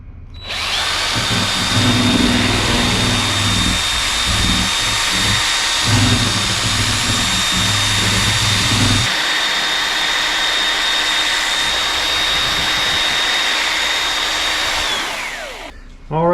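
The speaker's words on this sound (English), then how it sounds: "What I'm doing here is just scraping the sides just to make sure I get as much of the resin off the" Loud, steady whine of a woodturning lathe as resin is scraped off the sides of a bowl, with rough scraping texture for the first half before the tool lifts away and the motor spins down.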